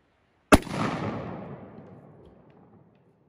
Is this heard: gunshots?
yes